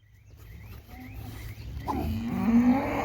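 A cow lets out a deep, drawn-out moo that swells toward the end, with quieter lowing and a low hum of farm noise beforehand.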